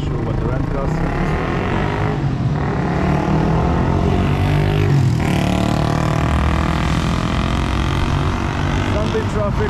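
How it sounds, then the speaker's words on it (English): Light Sunday road traffic in Panama: a continuous wash of passing vehicle noise with a couple of swells as cars go by, steady and moderately loud, with voices present under it. "Sunday traffic, very light."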